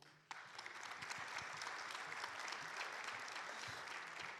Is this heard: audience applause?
yes